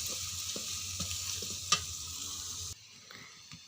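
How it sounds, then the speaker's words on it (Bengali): Potatoes and pointed gourd stirred in lightly hot oil in a kadai, a soft steady frying hiss with a few light spoon taps and one sharp clink, then the hiss drops away near the end. "1 থেকে 2 মিনিট নাড়িয়ে নেব।"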